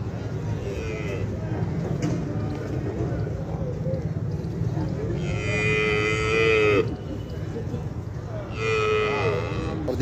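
Murrah buffaloes at a crowded livestock market in Kurali bellow twice in long, loud, close moos. Steady market chatter and bustle continue underneath.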